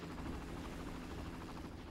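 A helicopter in the Far Cry video game, a continuous close rotor drone with a low throbbing pulse, steady and unbroken, no talk.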